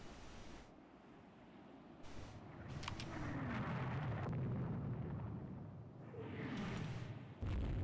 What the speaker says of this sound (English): We hit the Malta with 2 torpedoes. We've hit one of their destroyers last turn.